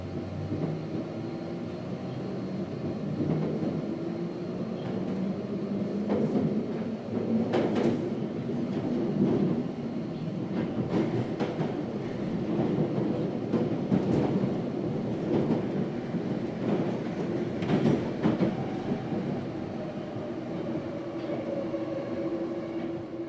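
A London Underground Victoria Line train, automatically controlled, rumbles steadily through a tunnel, with continuous heavy wheel roar and rail noise. Sharp clanks and clatters from the track break through at intervals, close and loud.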